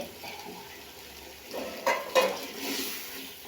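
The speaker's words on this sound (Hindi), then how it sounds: "फ्रेश बीन को 2 से 3 मिनट में भून के" Fresh beans tossed into a pan of frying potatoes and stirred, a steady sizzle with scraping spoon-on-pan clatter building in the second half, no voices.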